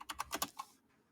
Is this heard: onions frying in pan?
no